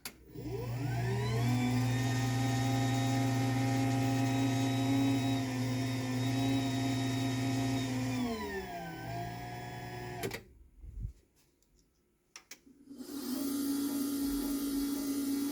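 A Linear LDCO800 garage door opener motor runs steadily with a loud mechanical whir for about eight seconds, winds down and stops, falls nearly silent with faint rustles, then a similar motor hum resumes near the end.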